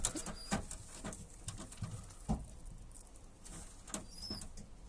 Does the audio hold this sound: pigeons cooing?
yes